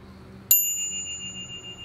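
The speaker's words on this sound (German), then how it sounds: "ganz exklusiv für die Barber Edition gibt es eine messingfarbene Klingel" A single clear ding comes from the brass-coloured bell on a 2022 Brompton x Barbour special edition folding bike. It rings once and decays slowly on its own.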